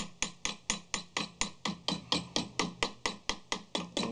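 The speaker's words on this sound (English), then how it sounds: "I'm hammering on dolly, meaning you want to hear a solid strike." Steady, regular hammer blows ring out on sheet metal backed by a dolly during rust repair, about fifteen solid strikes at an even rhythm, close and clear with no talking.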